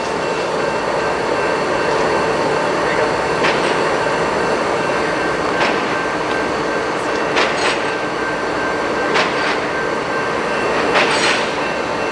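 A cross-country train rolls past nearby in a steady, continuous rumble, with metallic wheel clicks and occasional squeals rising over the din.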